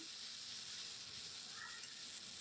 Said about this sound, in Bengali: তো সব মশলা দিয়ে একটু ভালো করে কষিয়ে নিচ্ছি আমি।